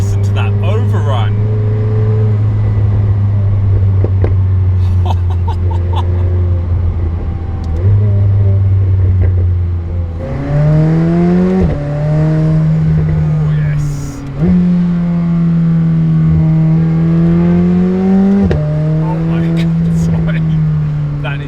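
A McLaren supercar's engine on overrun, a loud, steady droning exhaust that shifts pitch and crackles as the revs change, heard from inside with a voice talking over it.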